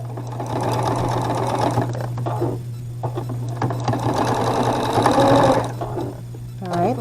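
A sewing machine stitches quilt blocks in rapid whirring bursts with short pauses between runs, loud and close, over a constant low electrical hum.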